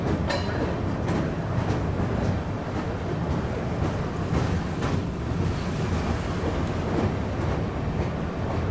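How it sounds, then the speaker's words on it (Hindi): A passenger train rolls slowly beside the flooded Kaljani river, a constant loud broadband rumble mixed with rushing wind and water noise and faint wheel clacks, with no talking. "हमारी ट्रेन इसीलिए यहाँ पे धीरे हो गई है"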